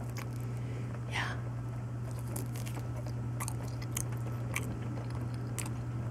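Soft wet chewing and biting on a banana, close to the microphone and quiet, with scattered crunchy clicks over a steady low hum and no talking.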